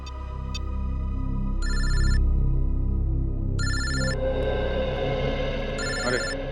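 A telephone rings in repeated electronic bursts over a sustained musical background, the rings clear and near.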